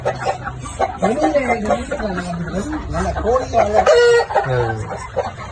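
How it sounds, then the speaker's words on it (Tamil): Chickens cluck and a rooster crows at a poor family's small backyard poultry coop, repeated calls continuing throughout, fairly close and mixed with background voices. "அது நல்ல கோழி"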